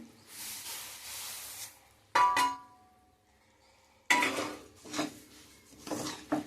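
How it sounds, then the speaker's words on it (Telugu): Sesame seeds being stirred into thick jaggery syrup in a pan, giving bursts of scraping and clinking of a spoon against metal, with a quiet gap in the middle and busier stirring toward the end. "బెల్లం పాకం నువ్వులు బాగా కలిసేలా కలుపుకుని ప్లేట్లో తీసుకుందామండి."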